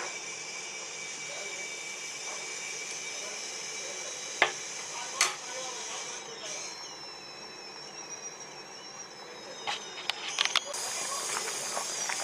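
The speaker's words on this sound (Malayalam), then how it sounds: "ഇതിപ്പോൾ തിളച്ചിട്ടുണ്ട്." Drumstick and toor dal curry boiling in a pot gives a steady, fairly quiet hiss and bubbling, broken by a few sharp pops and clicks.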